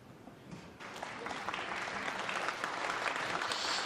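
A snooker crowd claps for Ding Junhui at a championship final, applause starting light and swelling into sustained, dense clapping across the hall.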